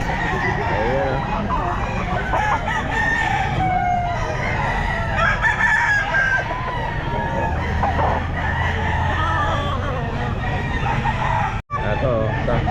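Roosters crow repeatedly at a busy outdoor pet market, with loud nearby calls and clucking over crowd murmur, vehicle hum and a vendor talking in the background.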